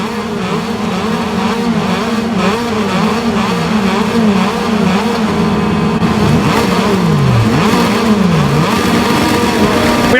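Moto2 racing motorcycles scream away from the grid at the start of the Indonesian Grand Prix, a loud, continuous blend of many engines revving and climbing through the gears, with pitch sweeps rising and falling as bikes accelerate.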